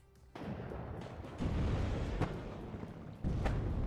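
Enemy tank cannon fire in the real-time strategy game WARNO: three booming shots land in quick succession, each one stepping up the level of a thick, rumbling battlefield din.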